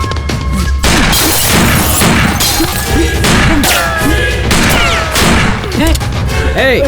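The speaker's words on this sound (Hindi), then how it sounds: "चलो गोलियां बरसाओ।" Dense, chaotic volleys of gunfire crackle and boom continuously, mixed with crashing noise and shouting voices close by.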